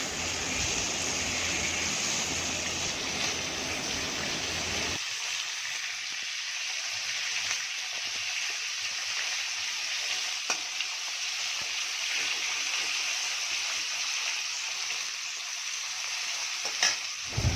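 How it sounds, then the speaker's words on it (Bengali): Shol fish frying in hot oil in a wok, a steady loud sizzle running throughout, louder and fuller for the first few seconds, then continuing evenly with a few small pops. "তারপর মাছগুলোকে ভেজে নিচ্ছি খুব ভালো মতো করে।"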